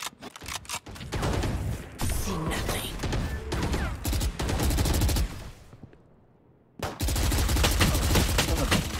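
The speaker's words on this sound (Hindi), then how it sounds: "भाई ये क्या गन है रुक रही नहीं है" Continuous rapid automatic gunfire from a video game gun, loud and dense bursts running for several seconds, a brief pause, then firing resumes just as intensely.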